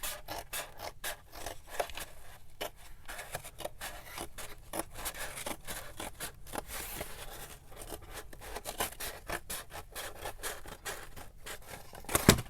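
Scissors cut awkwardly through a paper tag for an upcycled junk journal, making a close series of irregular crunching, rasping snips and rubs with no talk.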